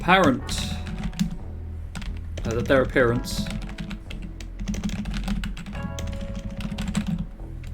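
Rapid clicking keystrokes on a computer keyboard run steadily throughout at close range, underneath a man's speech that comes and goes.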